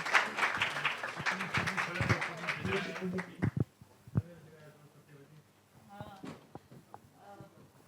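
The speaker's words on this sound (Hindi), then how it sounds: "ताली जोर से क्लैपिंग करें हमारे शायरों के लिए" An audience claps for poets at a literary gathering, a few seconds of loud, dense applause that thins into scattered claps and then fades as voices talk over the quieter end.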